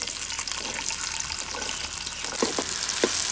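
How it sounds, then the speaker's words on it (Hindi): Onions dropped into hot ghee in a kadai give a steady, close sizzle with a few sharper crackles toward the end, and no talking over it. "घी गरम हो चुका है तो इसमें सबसे पहले डालेंगे प्याज"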